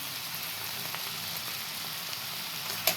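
Green chillies sizzle in a hot pan as they are added, a soft steady crackling fry with a brief clatter near the end, quiet and without talk.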